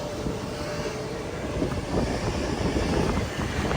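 The Mysuru to Chamarajanagar passenger train running, a steady loud rumble and rushing wind heard from on board, continuous throughout with no voices.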